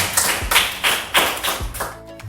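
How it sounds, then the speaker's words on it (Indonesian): In a classroom, students clap for a classmate in a religious studies lesson, a few loose rhythmic bursts of claps with thumps, close and fairly loud, fading out near the end. "tepuk tangan buat Uda"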